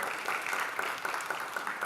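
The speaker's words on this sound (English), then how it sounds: "Big round of applause." A live audience at a motivational talk claps in a big round of applause, a continuous crisp patter of many hands, moderately distant and even throughout.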